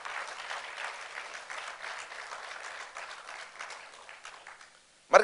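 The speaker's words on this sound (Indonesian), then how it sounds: "Tepuk tangan yang dahsyat." Church congregation applauding steadily, a dense continuous clatter of many hands that fades out near the end, followed by a brief loud burst of another sound.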